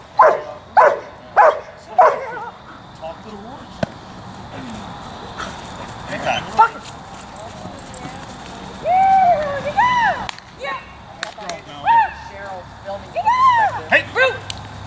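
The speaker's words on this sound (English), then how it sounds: "Why is the dog coming up here?" A dog barks several times in quick bursts near the start, then gives a few whiny yips and whimpers later on. People talk and call out around it outdoors.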